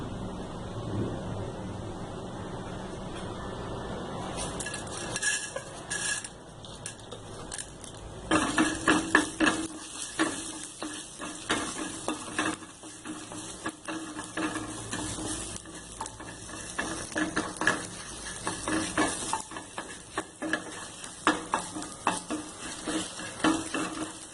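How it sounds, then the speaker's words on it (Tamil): Coriander seeds and dried chillies fry lightly in a little oil for radish chutney, giving a steady soft sizzle with intermittent stirring scrapes and clinks of a spoon against the pan. The frying grows busier partway through, and no one speaks. "இப்போ நம்ம மல்லியும் மிளகாயும் லைட்டாக எண்ணெய் ஊற்றிக்கலாம்"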